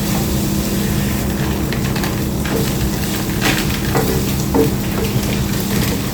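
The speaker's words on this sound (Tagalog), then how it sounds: "Dapat para makapirito yung karne." Beef sizzling and frying in a pan, a steady dense hiss with faint scraping stir sounds, close and continuous with no talk.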